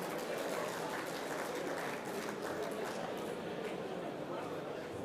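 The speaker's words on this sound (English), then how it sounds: "please, round of applause for Jim, a great season in the women's grade" An audience applauding at a football association awards night, a dense continuous wash of clapping from a crowd, steady and moderately loud, with voices faintly mixed in.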